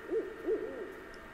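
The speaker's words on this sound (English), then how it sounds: "Owl somewhere." Owl hooting inside the video game Seasons: A Letter to the Future, two soft low hoots in quick succession followed by a fainter trailing call, moderately distant over a steady ambient hum.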